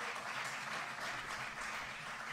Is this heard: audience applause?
yes